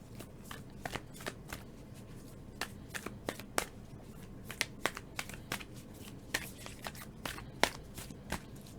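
Oracle cards being shuffled by hand, a quiet run of crisp riffling snaps and flicks scattered irregularly across several seconds over a low background hum, close and alone without talk.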